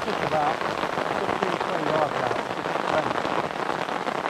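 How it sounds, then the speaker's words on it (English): Heavy summer rain lashes down on a fishing umbrella beside the River Trent during a downpour, a dense, constant close patter filling the whole stretch with no pause. "I'm going to sit under his brolly and film him because it's absolutely lashing down."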